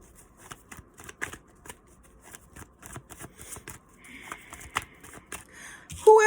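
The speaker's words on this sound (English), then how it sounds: "I'm going to pull a few more cards." Tarot cards being shuffled and pulled from the deck: a steady run of quick riffling flicks and soft slaps, close and fairly loud, ending in a sharper burst of handling.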